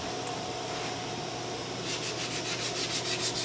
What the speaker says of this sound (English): I folded over a piece of sandpaper and we can use that to work up to the lock panel